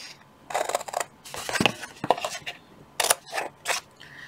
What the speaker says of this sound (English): These scissors are sticky.